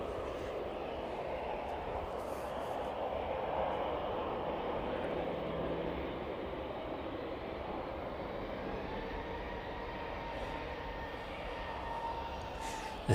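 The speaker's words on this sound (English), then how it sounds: "Jet 2 service in from Tenerife making its way back up on the taxiway as well." A Jet2 airliner arriving from Tenerife taxis at East Midlands Airport, a steady distant roar of jet engines with broad rumbling noise that holds level throughout.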